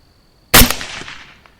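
A single loud rifle shot cracks at night at a wild hog, its sharp blast followed by a decaying echo rolling away over open ground.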